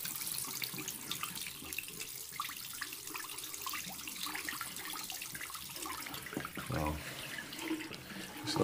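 Hot water runs steadily from a tap in a hotel bathroom in Blackpool, a continuous close splashing stream that lasts the whole time without a break.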